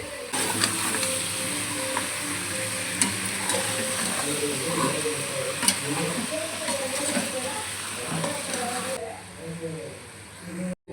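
Fenugreek leaves sizzle and fry in a pan for country chicken sambar, a steady hiss with scraping stir sounds throughout while a voice talks over the cooking.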